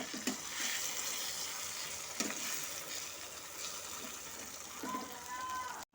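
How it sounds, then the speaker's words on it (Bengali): Vegetables with small fish frying and sizzling in a pan as the water used to rinse a bowl of mustard and poppy seed paste is poured in, a steady close hiss with brief stirring clatters. "এখন আমি যে সর্ষা, পোস্ত যে বাটিতে রেখেছিলাম সেই বাটি ধোয়া জলটা আমি এখন এখানে দিয়ে দিচ্ছি"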